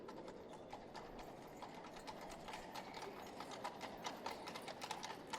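Hooves of horses pulling carts clip-clop steadily and continuously on a street in 1899 London, the rapid overlapping beats close and moderately loud with no talk over them.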